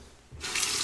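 Tap water gushes into a sink to rinse a Shibumi Japanese razor with replaceable blades, starting abruptly after a brief quiet moment and running steadily and close.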